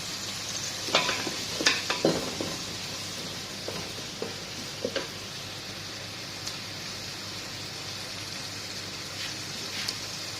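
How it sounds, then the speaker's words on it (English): Onion, whole spices and green chili frying in hot oil for Arabic-style keema, a steady close sizzle with occasional scrapes and stirring knocks of a utensil in the pan. "So I already put it onion, all whole spices and green chili also, and have to cook till golden brown."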